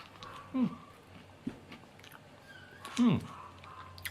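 Crunchy Japanese-style coated peanuts, salty with soy sauce and a sweet coating, are bitten and chewed close up in two short crunching bursts separated by a quieter pause.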